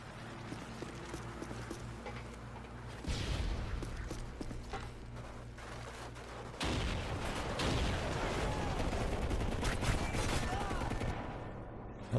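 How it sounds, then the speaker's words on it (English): Heavy gunfire in a Halo 4 gunfight, with dense rattling bursts of shots that grow louder and more continuous partway through, close and busy, with faint voices in the mix. "we're in the middle of a gunfight"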